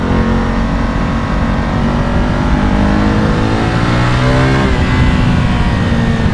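A BMW F850 GS motorcycle engine revs at high rpm, a loud, close, sustained growl whose pitch rises and falls across several seconds with no voices.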